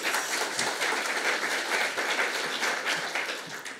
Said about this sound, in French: merci de l'applaudir pour cette nouvelle présentation